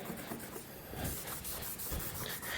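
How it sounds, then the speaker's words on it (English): A wood floor is scrubbed and scraped by hand to lift stuck debris: close, soft, rough rubbing strokes in a quiet room, with no talking. "either scrub, or we have little scrapers that we use to get this stuff off the floor"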